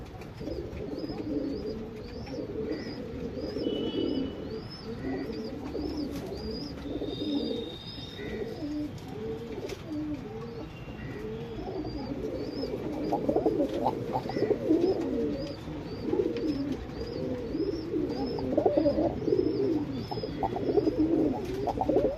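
Pigeons kept for breeding coo repeatedly in low, rolling phrases close by, with a few thin chirps overhead and a steady hum of surrounding activity beneath.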